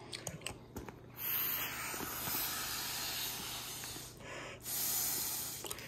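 Air rushes with a steady, breathy hiss through the valve of an inflatable pool toy as it fills. The sound swells and dips in long continuous stretches after a few soft knocks, fairly quiet, with no voices.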